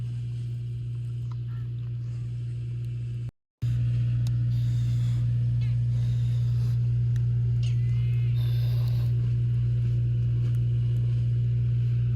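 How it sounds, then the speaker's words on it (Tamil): An engine from nearby work hums steadily at a low, constant pitch behind an outdoor cooking scene, with one brief cut in the middle, faint birds and quiet background activity around it. "அங்கிட்டு வேலை நடந்துகிட்ருக்கு. அதனால் இன்ஜின் சவுண்டு அதிகமாக கேட்க"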